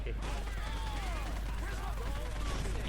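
Rapid bursts of gunfire in the game POSTAL Redux crackle continuously over a steady noisy backdrop, with excited voices talking throughout.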